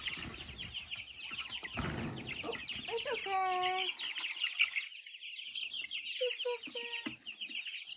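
Chickens cluck and squawk close by, with a few sharp higher calls, while a person speaks briefly in a soft voice.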